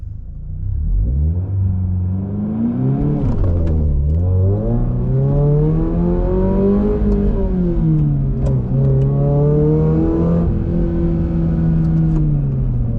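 2023 Toyota GR86 10th Anniversary Special Edition with an aftermarket exhaust, accelerating hard on track from first gear: a loud, close engine drone rising in pitch, dropping briefly at each upshift, with no speech.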